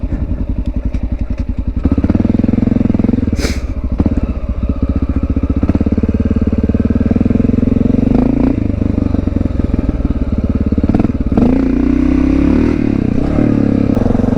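A Honda XR650L single-cylinder dual sport motorcycle rides steadily in the Fruitland Valley backcountry, its loud engine thumping continuously close to the mic, with brief clatter and revving swells along the way.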